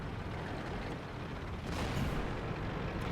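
Tank cannon of a Centurion Tier 8 medium tank firing in World of Tanks, a loud booming blast over a continuous rumbling battle background, swelling slightly toward the end.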